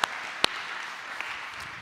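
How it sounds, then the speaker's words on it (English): Church congregation applauding in honor of military veterans on Memorial Day, a steady soft patter of many hands at moderate distance with a couple of sharper claps standing out. "can we just give one more round of applause in honor of all of our veterans"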